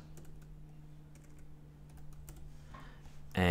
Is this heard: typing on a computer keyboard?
yes